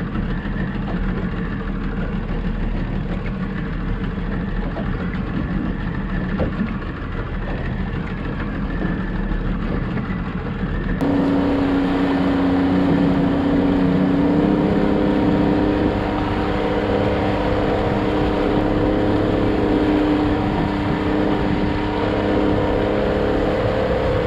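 A boat's engine idles steadily out on the Sea of Japan near sunset, a continuous mid-pitched drone that grows slightly louder and rougher about halfway through. No one speaks.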